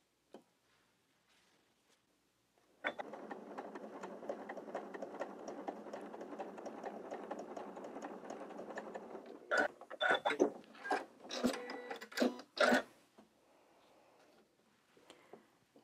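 A Sew Q sewing machine stitches a diagonal quarter-inch seam across quilting fabric, a steady close mechanical whir running about seven seconds, then a cluster of clicks and handling knocks before it falls quiet.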